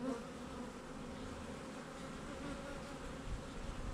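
Worker honeybees on a heavy nectar-filled hive frame create a steady, close, dense buzzing hum that holds at an even level throughout, with no voices over it.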